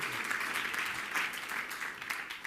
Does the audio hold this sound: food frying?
no